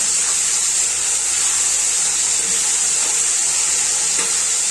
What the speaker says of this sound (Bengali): এটাকে কিছুক্ষণ ভাজা ভাজা করবো।